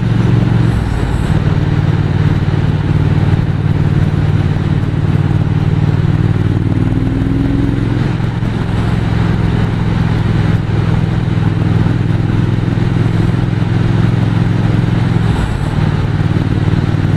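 A Triumph 1200 Speed Twin motorcycle engine drones loud and close while riding along the Route des Crêtes in the Vosges mountains, a steady low throb with slight pitch shifts and wind noise and no talk.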